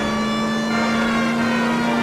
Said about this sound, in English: We'll turn on the siren and get him out of our way.